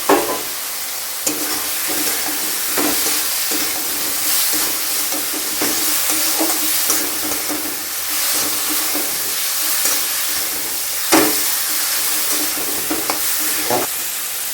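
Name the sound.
egg being added to sizzling frying pan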